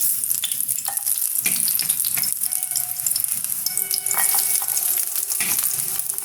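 Onions hiss and sizzle steadily in hot coconut oil in a pan over low heat, with the scrape of a spoon stirring now and then, close and fairly quiet.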